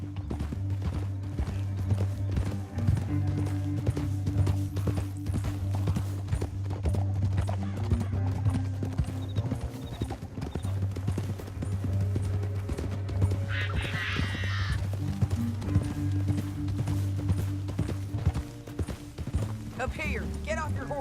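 Horse hooves clip-clop steadily in the video game Red Dead Redemption 2, a continuous rhythmic beat over a low droning music bed, with a brief whinny partway through.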